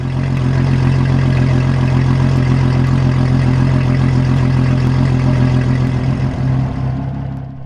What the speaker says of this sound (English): Steve climbed aboard and fired up the engine